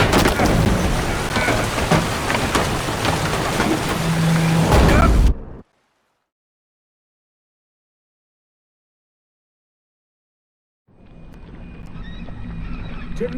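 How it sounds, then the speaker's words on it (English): A storm in The Witcher 3 video game brings steady rain, thunder rumbles and horse sounds, which break off into several seconds of silence before the rain and wind return. "Didn't bargain for no storm."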